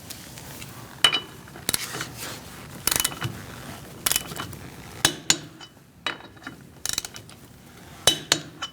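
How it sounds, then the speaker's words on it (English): Torque wrench with a 19mm socket tightening lug nuts to 100 foot-pounds on a 2016-2019 Chevrolet Cruze, with ratcheting clicks and sharp metallic snaps in irregular bursts, close up and without talking. "Using a 19mm socket, we're going to torque our wheels to 100 foot-pounds."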